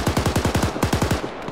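Sustained automatic gunfire in Insurgency: Sandstorm, a fast steady stream of around a dozen loud, close shots that briefly pauses and resumes before tapering off, with no talking.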